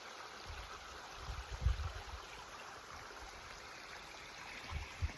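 Gentle water lapping in a cove off the Atlantic Ocean, a soft steady wash with faint low thumps of small waves, quiet and distant under an open outdoor ambience with no talking.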